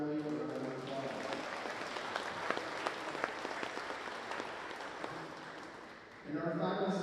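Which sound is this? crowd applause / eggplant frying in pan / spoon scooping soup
crowd applause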